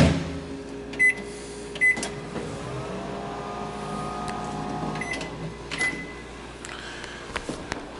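A residential microwave oven runs with a steady hum, and several short beeps stand out over the drone.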